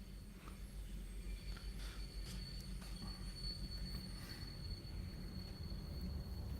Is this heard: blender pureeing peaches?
no